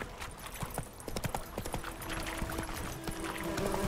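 Roach, a horse in The Witcher 3 video game, trotting with a steady run of close clip-clop hoofbeats on firm ground over soft ambient game sound.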